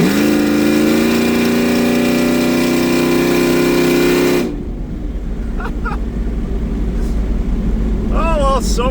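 Custom exhaust on a Ford SVT Lightning pickup truck, loud and steady with engine drone while driving, then a sudden drop to a rougher, quieter rumble with road noise and a few brief chirps.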